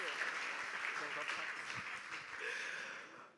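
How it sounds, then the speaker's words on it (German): Audience applause from a youth church livestream crowd, a dense steady wash of clapping that carries on for a few seconds and then fades out. "ich gebe denen zwei gerade einen Applaus, wenn wir gerade am Klatschen sind"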